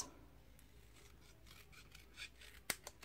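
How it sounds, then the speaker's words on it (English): Paper snips cutting through paper give a few soft rasping strokes followed by a sharp snip near the end, close and quiet with no voices. "I'm going to take my paper snips,"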